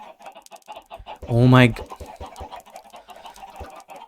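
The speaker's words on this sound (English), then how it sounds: "Goddamn stupid chickens. Stop. Stop giving your eggs." Minecraft chickens cluck in short repeated game sounds alongside a voice, with one louder rising squawk near the middle standing out over the rest.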